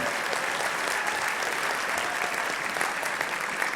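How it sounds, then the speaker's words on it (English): Steady applause from a convocation audience for graduating Personal Support Worker students at a Humber College ceremony, a dense, continuous wash of many hands clapping at even loudness throughout, with no speech over it. "please give a round of applause for graduates from the Personal Support Worker Program"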